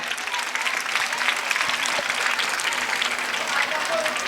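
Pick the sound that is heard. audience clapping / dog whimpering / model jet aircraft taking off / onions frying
audience clapping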